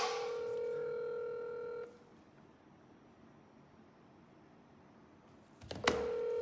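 A telephone call rings out unanswered, giving a steady electronic ring tone that stops abruptly, then a hushed pause and a brief burst of tone again near the end.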